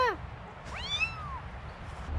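A domestic cat meows indoors: a short cry at the start, then a longer rising-and-falling meow, both fairly close and clear over a low room rumble.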